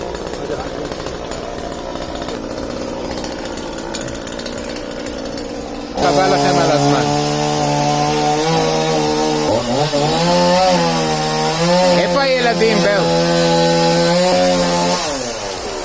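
A chainsaw cutting trees starts up after a stretch of low rumble, then revs loud and close with a sustained, wavering whine that rises and dips as it bites into the wood.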